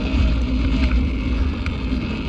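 An electric model boat motor running at full throttle, a steady loud whine and rush of water and wind that holds constant throughout, close to the microphone with no voices.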